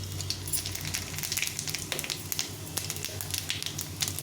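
Dry radhuni seeds, cumin and a dried red chilli sizzling and crackling in hot oil in a pan, a steady close frying hiss with frequent small pops throughout, no talking.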